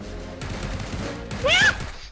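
A quick burst of PUBG gunfire cracks out near the end, louder than the steady background noise and low talk that run through the clip.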